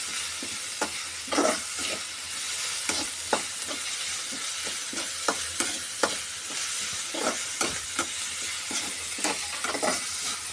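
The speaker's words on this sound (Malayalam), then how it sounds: "ഉള്ളി നന്നായിട്ട് വാടട്ടെ." Onions fry in a pan for a dry fish curry, giving a constant close sizzle broken by repeated scraping stirs of a spoon against the pan.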